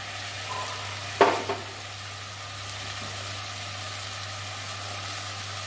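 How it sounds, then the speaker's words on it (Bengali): Ground spices (ginger paste, coriander, cumin, chili, turmeric) mixed with water sautéing in a pan for a Bengali fish curry: a steady, soft sizzle under a low hum, with one brief clatter early on. "রান্নাটা ভালো করে কষিয়ে নেব।"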